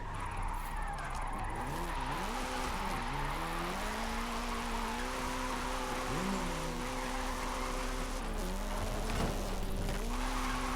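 Nissan 240SX drift build sliding through corners in Forza Horizon 5, engine revving and bouncing between gears with continuous tire squeal, steady and loud throughout with no talking.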